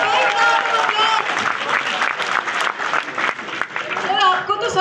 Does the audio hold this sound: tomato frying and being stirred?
no